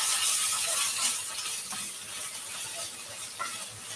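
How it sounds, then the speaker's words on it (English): Tinda being sautéed lightly in a pan with a wooden or steel spatula, giving a soft hiss with scraping, rattling stirs close by. "Now the vegetable is added. Just saute it lightly."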